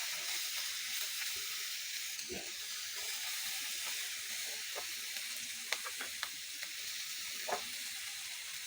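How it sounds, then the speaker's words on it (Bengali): Garlic and onion fry slowly in oil in a pan, giving a soft, continuous sizzle with a few faint clicks of stirring, quiet and steady throughout. "এটা আমি এখন আস্তে আস্তে ভাজতে থাকবো"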